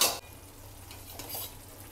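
Dry prawn thokku cooking in a pan after ten minutes under a lid, with a soft sizzle and a brief stirring scrape near the start, faint and steady with no talking.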